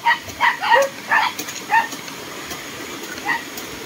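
Several short dog barks and yips in quick bursts, fairly close, during a patrol through a former military and NPA battle area, followed by quieter outdoor background.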